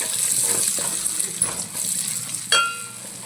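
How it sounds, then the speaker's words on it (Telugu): Spices and curry leaves being stirred in a frying pan for a crab curry, a steady sizzle with scraping and one sharp metallic clink near the end, close and moderately loud. "కొంచెం కుడక పొడి వేసుకొని బాగా కలపాలి"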